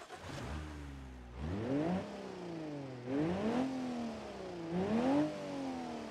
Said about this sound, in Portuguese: Vamos dar uma escutadinha no barulho do motor.